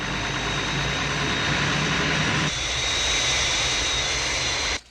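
Fireflash airliner from Thunderbirds on final approach to the runway threshold, a loud steady jet engine roar that drops in pitch partway through and cuts off abruptly at the end.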